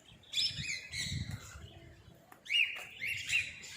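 Several birds chirp and tweet in short, bright bursts, some close and some farther off, with quiet pauses between calls.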